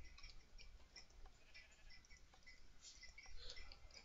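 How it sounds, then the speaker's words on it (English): Sheep bleat in the video game Space Purge, faint, high and repeated over a steady background hum, with no talk. "There's sheep."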